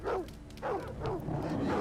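Sled dogs in the Alaskan wilderness game Cabela's Survival: Shadows of Katmai bark in several quick, agitated yips and bow-wows, fairly close and alone.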